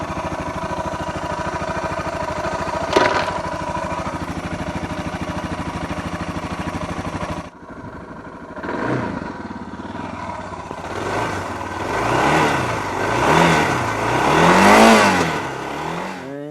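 A Suzuki DR650 dual-sport motorcycle, propped on a stand with a new chain link fitted, idles with a steady single-cylinder thrum, then after a pause is started again and revs in gear in rising and falling surges, close and loud.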